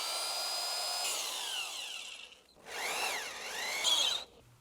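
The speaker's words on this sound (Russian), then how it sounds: "Далее сверлим отверстие под выход UTP." A power drill bores a hole through the insulated facade of a house, a high whining drone running steadily, dipping briefly as the drill slows, then revving up again with rising and falling pitch before stopping.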